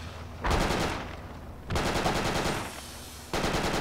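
Automatic gunfire in the tactical military game Project Reality, with three long sustained machine-gun bursts separated by short pauses, loud and close.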